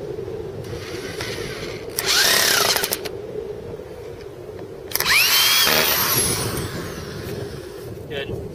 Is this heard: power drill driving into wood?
yes